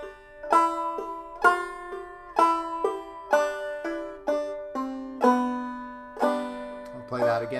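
A banjo plays the first bar of a tune as a sequence of about eight clear plucked notes, each decaying, in a steady rhythm, played alone and close.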